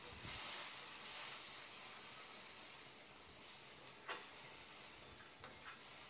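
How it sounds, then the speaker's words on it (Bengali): Spice paste thinned with a little water hisses and sizzles softly in a pan while being stirred, a steady low frying hiss with a few brief scraping accents, no talk. "এবার এই পর্যায়ে আমি যে মশলা পেস্টটা তৈরি করে রেখেছিলাম সেই মশলা পেস্টটা দিয়ে দিয়েছি, আর মিক্সি দেওয়ার সামান্য পরিমাণে জল এখানে দিয়ে দিলাম।"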